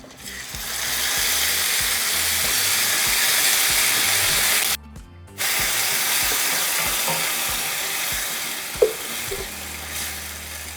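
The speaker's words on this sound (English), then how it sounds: "we're going to add our sauce." Sauce poured into a pan of golden toasted elbow macaroni for Mexican sopa de coditos, giving a loud, steady sizzle that cuts out briefly midway and resumes, with faint scraping and stirring.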